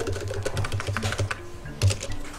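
Keys tapped on a computer keyboard while entering commands in AutoCAD, a quick run of clicks and a firmer keystroke like Enter, close and fairly clear with a low hum beneath.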